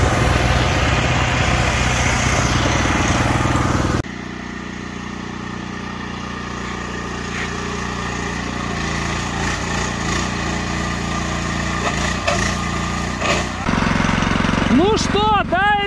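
A Neva walk-behind tractor's small engine runs steadily up close, a buzzing, chugging drone that drops in pitch partway through and then rises again, with people talking alongside it.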